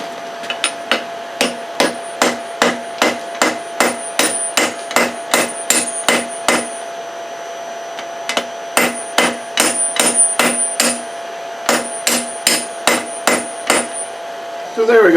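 A hammer strikes heated steel on an anvil to compress a forged dice bottle opener, with sharp ringing blows in quick regular bursts, one pause between two series, close and loud.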